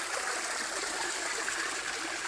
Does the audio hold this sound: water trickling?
yes